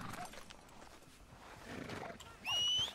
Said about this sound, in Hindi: आजा मेरे घोड़े.